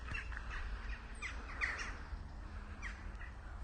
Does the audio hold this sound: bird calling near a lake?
yes